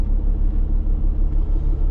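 A pickup truck with over 222,000 miles idles close by, a loud, deep, steady rumble with a gentle rhythmic pulsing and no other sounds on top.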